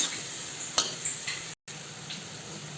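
Goat kurma with soaked chickpeas being stirred in a hot pan, a steady close sizzle with scattered scraping stirs and a brief dropout midway.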